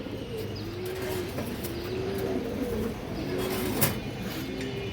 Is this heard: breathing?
no